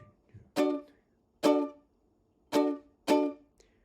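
Four separate strums on an acoustic guitar, each a bright, full chord that rings briefly and then is cut short, at an uneven rhythm with short gaps.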